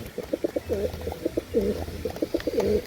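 Pigeons at a bird sale in Hooghly coo in soft, repeated throaty phrases close by, several rounds over a few seconds with a faint background murmur.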